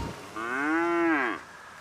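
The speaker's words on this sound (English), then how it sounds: "A cow? Oh, it's a land one." A single cow moos in the video game GTA V, one long, loud, clear moo of about a second, alone without talk.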